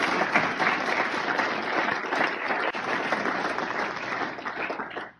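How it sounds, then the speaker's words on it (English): A crowd at a union gathering gives sustained applause, dense even clapping from many hands that holds steady for several seconds before cutting off. "So I want you to give them a round of applause."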